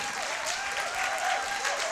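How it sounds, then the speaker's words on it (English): A crowd claps steadily and fairly loudly, a continuous wash of hand claps with no pauses. "So please give a huge applause for this daredevil, Bart Van Loon."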